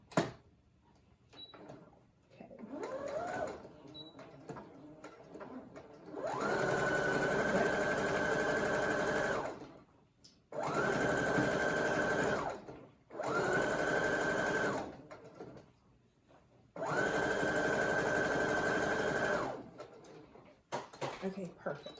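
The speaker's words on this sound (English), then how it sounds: "Sometimes the sewing machine gets a little caught." A sewing machine stitches fabric for an N95 mask cover in four sustained runs of steady whirring, separated by short pauses, with faint handling sounds before the first run.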